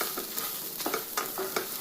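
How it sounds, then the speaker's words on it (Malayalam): Garlic and spices fry in a pan with a soft, even sizzle, broken by a few light stirring scrapes and clicks. "വെളുത്തുള്ളി എല്ലാം കൂടിയിട്ട് നല്ലോണം വറുത്തെടുക്കാം"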